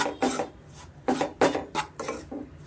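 Wheat flour is stirred in ghee in a pan over a medium flame, making a series of rhythmic scraping strokes, about six distinct rasps of a spoon against the pan, close and fairly clear with no talk.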